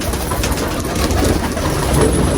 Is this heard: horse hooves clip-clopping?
no